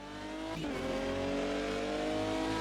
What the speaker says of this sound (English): And that is the Aston Martin DBR9. And this one is a front-engined V12 monster.